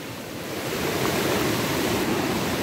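A village river flowing nearby, a loud, steady broadband rush of water that fills the whole stretch without pause or voices.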